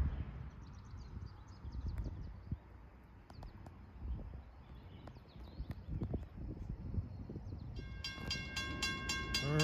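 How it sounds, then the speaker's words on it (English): A commuter passenger train on a New Jersey branch line approaches a small 1890 station, its low rumble building slowly before a single-pitch horn blast sounds near the end, fairly distant and outdoors. "here comes train 738 from Gladstone to Summit. Approaching P-Pack station with its monotonic horn"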